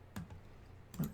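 Two separate key presses on a computer keyboard, each a quiet, crisp click about a second apart against a faint background hum.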